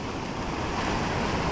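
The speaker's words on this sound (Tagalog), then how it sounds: "Lumalaki na alon Brad." Sea waves wash steadily at the shore at a spot used for fishing, a loud broadband rush with wind buffeting the microphone and no voices.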